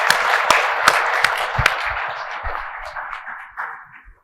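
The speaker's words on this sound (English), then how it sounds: "Another round of applause." An audience claps at a mortgage-technology business presentation: a dense wash of hand claps with a few sharp, distinct claps near the start, gradually thinning and fading out.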